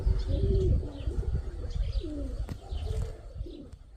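Mykolaiv pigeons coo softly nearby, with several low, rolling coos and a few light chirps over quiet background rustle.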